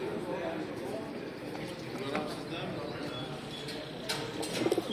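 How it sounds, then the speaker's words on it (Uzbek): Pigeons coo softly and repeatedly beneath almost constant nearby talking, with a few sharper clicks and flutters toward the end. "Chiroyli kaptarlar."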